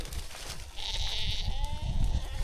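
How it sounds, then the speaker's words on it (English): Swaledale wether lambs bleat on a lower-ground farm, several overlapping wavering calls at close to moderate distance over a rumbling outdoor background. "So these are our Wether lambs"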